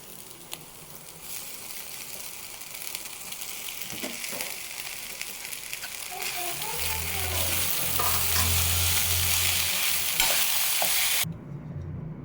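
Sago stirred with black salt into vegetables in a pan, a steady scraping and frying sizzle rising toward the end, close and alone with no voices.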